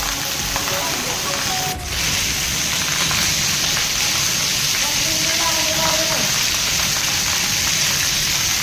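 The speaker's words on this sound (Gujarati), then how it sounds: "માલોતરા ગામમાં આજે ધોધમાર વરસાદ વરસી રહ્યો છે। ગાજવીજ સાથે વરસાદ વરસી રહ્યો છે।" Heavy monsoon rain pours down on Malotra village near Dhanera, a steady dense hiss that fills the whole stretch without a break, with faint voices underneath.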